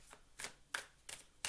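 Tarot cards being shuffled by hand make four crisp, papery riffling bursts at a steady pace, close and fairly quiet, with no voices.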